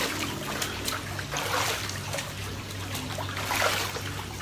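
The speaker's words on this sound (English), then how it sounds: "It even sounds dirty when he's splashing the water." Water splashing and trickling in irregular wet bursts over a low background hum, fairly close, with no talk.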